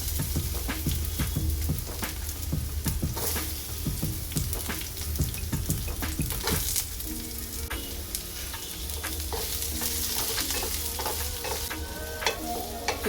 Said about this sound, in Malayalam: ജിഞ്ചർ ഗാർലിക് നല്ലപോലെ ഒന്ന് മൂത്ത് വരുമ്പോൾ നമുക്ക് ക്യൂബ്സായി കട്ട് ചെയ്ത് വെച്ചിരിക്കുന്ന ഓണിയൻ ആഡ് ചെയ്യാം.